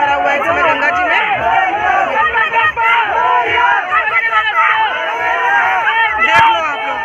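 A large, loud crowd gathered on the Ganges bank for a Ganesh idol immersion, a dense close babble of many overlapping voices and shouts that never lets up.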